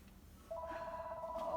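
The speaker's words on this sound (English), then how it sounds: "my phone is ringing" A telephone ringtone chirps in a steady electronic warble that starts partway through and repeats, fairly quiet, with no talking over it.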